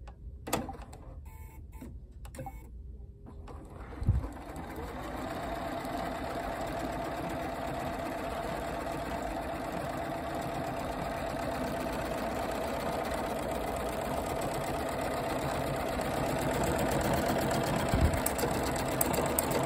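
A Bernina 990 sewing machine runs a wide decorative stitch, feeding side to side as well as forward and back, with a steady, even mechanical whir that builds slightly and continues alone throughout.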